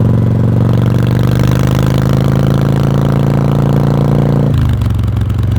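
A 39-year-old V-twin motorcycle engine runs steadily with a loud, continuous exhaust note during a ride, then the pitch drops sharply near the end as the throttle eases off; no talking.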